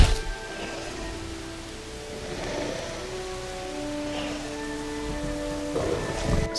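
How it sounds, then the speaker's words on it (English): Steady rain falls in the dinosaur park-building game Jurassic World Evolution, a continuous even hiss with soft tonal hums layered underneath and no voices. "This game looks amazing in the rain, doesn't it?"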